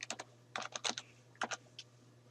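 Computer keyboard keys tapped in a quick cluster of clicks, a shortcut combination pressed, close and quiet with short pauses between presses.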